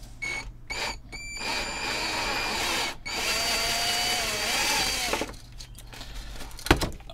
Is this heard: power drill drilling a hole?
yes